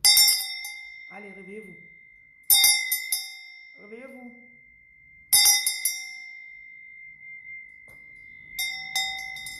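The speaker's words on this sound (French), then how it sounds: "Mais la cloche est puissante." A powerful bell is struck loudly four times, each ring sharp and then slowly fading, with a man calling out between the strikes.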